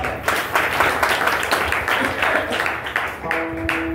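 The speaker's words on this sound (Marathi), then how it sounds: "एकदा सैनिकाकरता टाळ्या वाजवा" Steady applause from a crowd at a public talk, clapping in honour of soldiers, dense overlapping clapping that carries on throughout, with a brief tonal hum near the end.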